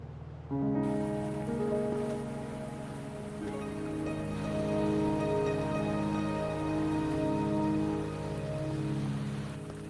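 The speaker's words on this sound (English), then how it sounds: "Are you trapped here by the rain?" Steady rain falls in the video game Wuthering Waves, a soft continuous hiss running under sustained melodic music throughout.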